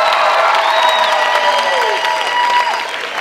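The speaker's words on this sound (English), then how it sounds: "give yourselves a big round of applause" A graduation audience at CalArts in 2016 applauds and cheers, a dense, steady wash of clapping with whoops and shouts rising above it, sustained for the whole stretch.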